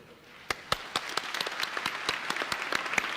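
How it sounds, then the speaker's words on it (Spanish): Warm applause from a church congregation in the Archdiocese of Buenos Aires welcoming a new archbishop, beginning with scattered distinct claps and swelling into denser, steadier clapping. "Con un caluroso aplauso, el pueblo de Dios de la Arquidiócesis de Buenos Aires recibe en este momento a su nuevo arzobispo"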